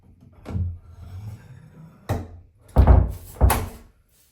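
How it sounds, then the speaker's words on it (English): A fire door fitted with a door closer swings shut, giving a few heavy wooden thunks and a latching clunk, close and fairly loud, with no talking. "we can now close the door and get this inner arm into the outer arm"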